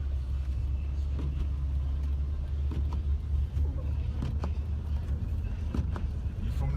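A car drives through a snowstorm with a steady low engine and road rumble inside the cabin, plus faint scattered clicks and thumps, and no speech.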